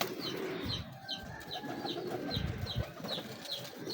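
Old pigeons coo in a loft, giving repeated soft, throaty rolling coos at close range. A regular series of short, brighter chirps sits on top, with no talking.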